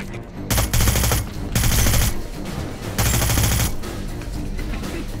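Hitman video game gunfire in three loud sustained automatic bursts, each lasting about half a second to a second, separated by short gaps, close and harsh.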